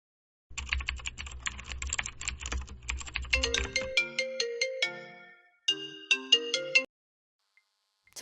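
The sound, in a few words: phone ringtone of an incoming call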